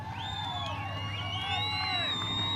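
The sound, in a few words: speedway crowd cheering and applauding the driver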